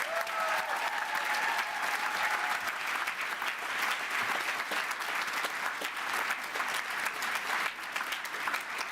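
A graduation ceremony audience at the University of West London applauding, a steady wash of clapping from many hands that carries on evenly for several seconds.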